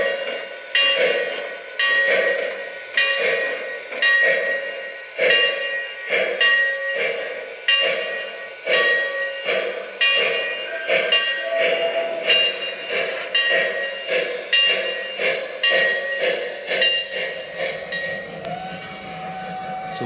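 An O gauge model steam locomotive runs steadily with a rhythmic, repeating chuff and clatter, loud and close throughout, with a sustained whistle-like tone creeping in near the end.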